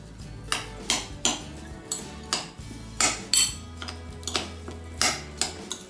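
Minced pork, chopped onion and breadcrumbs are mixed in a large bowl, a utensil knocking and scraping against the bowl in a steady rhythm of about two strokes per second, close and clear, with no voices.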